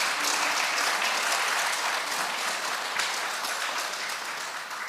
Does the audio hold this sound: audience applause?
yes